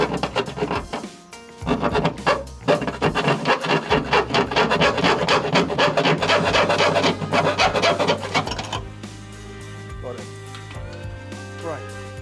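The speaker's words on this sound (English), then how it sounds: "I'll grind all that off to make sure we're on solid metal" An angle grinder works surface rust off the rear metal panel of a Porsche 928, a harsh continuous grinding rasp with pulsing bursts, loud and close, then winding down into a quieter whirr.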